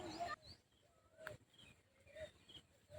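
Birds call outdoors around a village home, with faint, distant chirps and coos scattered over low background noise and some murmur.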